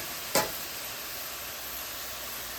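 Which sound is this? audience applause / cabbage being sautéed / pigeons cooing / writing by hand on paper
cabbage being sautéed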